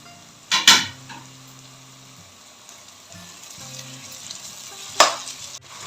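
Ginger garlic paste with green chillies frying in a pan for ghee rice, a soft sizzle punctuated by a couple of sharp metal spoon scrapes and clinks against the pan, close and fairly quiet with no voices.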